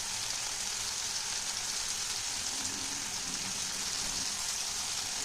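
Ground spices such as coriander, cumin, turmeric and Kashmiri chilli powder frying in a pan for broccoli paneer, giving a steady, even hiss and sizzle that holds at the same level throughout with no talking.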